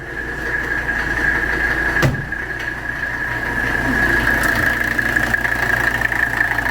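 Close, steady idle of a 1984 Mercedes 300SD diesel engine, an even low rumble and clatter with one brief knock partway through and nobody speaking.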